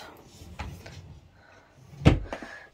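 A wardrobe drawer in a toddler's bedroom being handled, with soft rustling and then one sharp wooden knock as the drawer closes or opens.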